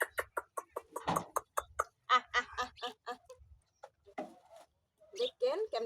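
Farm chickens cluck and call repeatedly while pecking at moist mixed feed, their short bursts mixed with a person talking close by.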